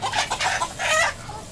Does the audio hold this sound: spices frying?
no